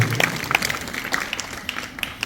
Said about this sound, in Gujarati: આપણે જોરદાર તાળીઓથી એમને વધાવીએ।